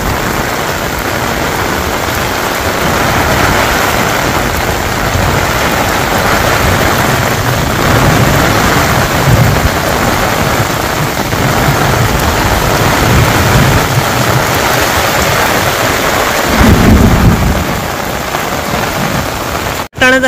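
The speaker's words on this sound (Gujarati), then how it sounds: "અને વીજ ને કડાકા" A village thunderstorm with heavy rain, a loud continuous roar of downpour with deep rumbles of thunder rolling through it, one heavy rumble standing out near the end.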